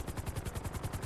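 A helicopter in GTA roleplay flies with a fast, steady chop of rotor blades, even rhythmic pulses close and moderately loud.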